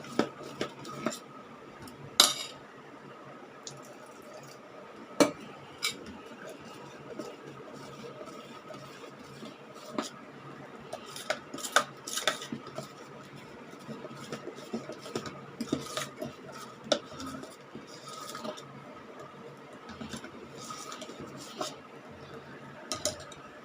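Ladle clinking and scraping in a vessel while stirring fenugreek dosa batter, irregular sharp metallic taps and knocks over a quiet room.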